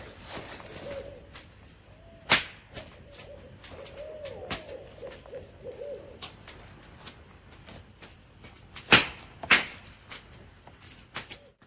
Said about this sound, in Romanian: ceea ce tocmai ați auzit au fost, clar, bufnițe cu coadă dungată